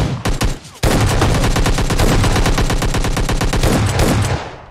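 Rapid automatic gunfire from the video game PUBG Lite, with a few separate shots and then a long, dense, continuous burst, loud and close, no talking.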